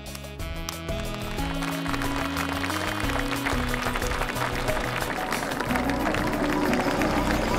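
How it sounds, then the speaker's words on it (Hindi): A crowd's applause builds and holds as dense, steady clapping, rising over a musical backing with a held low tone at the start. "मैं चाहूंगा एक बार जोर से तालियों के साथ इनका हौसला बढ़ाया जाए"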